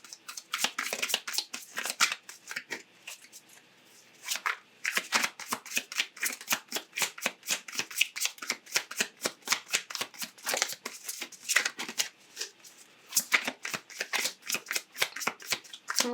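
Tarot cards are shuffled by hand in quick riffling bursts of dry flicks and slaps, close and crisp, repeating in clusters with short pauses between them.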